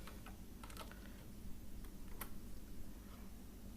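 Keys clatter on a computer keyboard as Ctrl and F9 are pressed and a number is entered, a short run of quiet, close clicks with a few sharper taps, over a low steady background hum.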